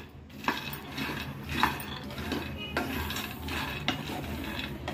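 Peanuts dry-roasting in a pan are stirred continuously, giving a close, rustling scrape with occasional sharper clicks of nuts and spoon against the metal.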